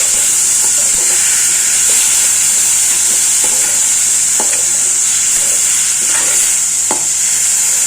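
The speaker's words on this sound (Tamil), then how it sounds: "நல்லா வதக்கிடலாங்க. நல்லா வதங்கட்டுங்க." Masala sautés in a pan with a continuous high sizzle, while a spoon stirs and scrapes the pan in irregular taps every second or so.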